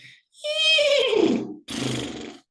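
A human voice imitates a horse's neigh in a loud, close whinny that falls in pitch, followed after a short break by a second breathy, snorting burst.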